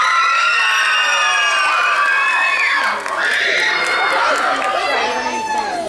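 A crowd of school students cheers and shouts loudly for the 8th grade, a dense, continuous wall of high young voices and whoops with chatter mixed in.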